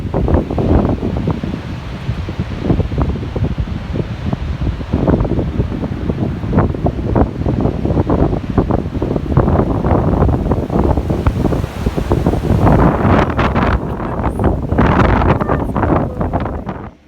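Strong windstorm gusts of over 70 mph outside a house: a loud, continuous roar with buffeting rumble and rustling, steady throughout, like heavy wind hitting the microphone.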